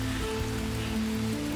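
Steady rain falling in the survival video game Green Hell, a continuous wash of drops on surfaces with a low ambient hum beneath, even and unbroken throughout.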